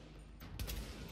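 Gunfire in the shooter game The Division, a heavy machine gun's burst erupting midway as a loud, dense clatter over a low, rumbling game background.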